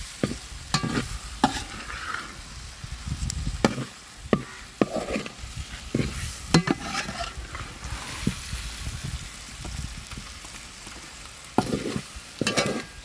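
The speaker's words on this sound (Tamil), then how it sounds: "முட்டையை சேர்த்துட்டு அப்படி மெதுவாக கிளறி விடுங்க." Boiled eggs being stirred slowly into a sizzling masala gravy in a pan, a soft hiss of frying under scraping and clanking spoon strokes, close and fairly quiet, with no one talking.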